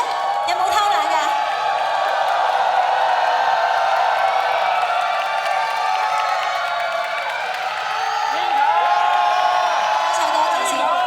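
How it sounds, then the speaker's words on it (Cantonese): A big concert audience roars with high-pitched screams and whoops over continuous applause, a dense, loud wall of crowd noise that swells again near the end. "我想要啲我覺得係紅館級嘅尖叫聲同埋拍手掌聲"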